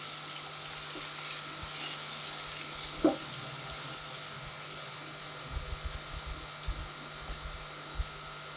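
Potatoes coated with turmeric fry in oil in a pan, a soft steady sizzle with a single sharp clink partway through and a few light knocks near the end, quiet and without speech.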